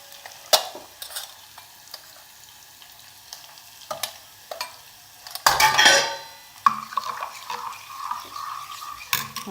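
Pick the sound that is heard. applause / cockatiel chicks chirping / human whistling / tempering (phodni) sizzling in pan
tempering (phodni) sizzling in pan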